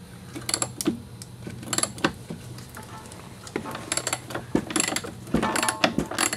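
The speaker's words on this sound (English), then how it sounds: "So now we're just going to take this bolt out." A bolt is worked loose from the control arm of an Audi A4 B5 1.8T, giving sharp metallic clicks and ratcheting taps in irregular bursts, close up and fairly loud.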